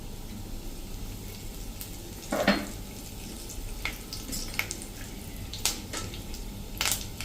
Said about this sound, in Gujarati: આપણો મસાલો પણ સરસ ક્રકલ થઈ ગયો છે